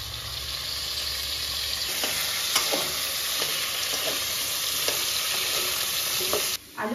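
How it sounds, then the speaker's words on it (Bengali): Potatoes frying in white oil in a pan give off a loud, steady close-up sizzle, broken by soft scraping taps as they are stirred, with no voices. "আলু ভাজা হয়ে গেছে, এবার আমি তুলে নিচ্ছি।"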